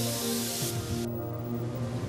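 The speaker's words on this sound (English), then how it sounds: "After spraying, the sheets are dried to a bisque state with a controlled coating thickness." Enamel coating sprayed onto steel sheets in a factory, a loud steady spray hiss that cuts off partway through, leaving a continuous hum of machinery below.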